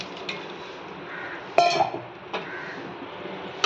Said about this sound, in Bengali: মাছগুলোকে দিয়ে আমি ঢাকা দিয়ে দেবো।